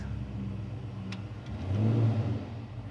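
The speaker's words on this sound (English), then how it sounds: "There's actually a car show next door, so it's a bit noisy" A car engine idles and then revs up briefly nearby at a car show, a low rumbling drone swelling and easing off, with no one speaking.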